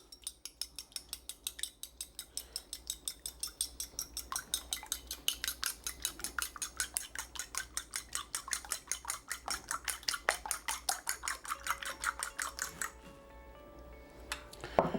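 Eggs being whisked in a bowl with a utensil, a steady fast rhythmic clinking that runs for most of the stretch, then a brief clatter near the end.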